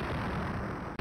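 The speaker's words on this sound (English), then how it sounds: "Need another explosion sound there." A single sustained explosion effect in the Stunt Island flight game rumbles as a fairly quiet, steady broadband blast about a second long, then cuts off abruptly.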